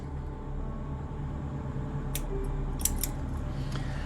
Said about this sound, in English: if I can get my scissors, we're going to go in and we're going to snip this